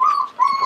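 A six-week-old Aussiedoodle puppy whimpers close by in two high, thin whining cries split by a short pause, with no talking.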